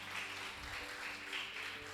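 A church congregation applauding together during a worship service, a steady, dense wash of clapping from many hands that holds evenly throughout.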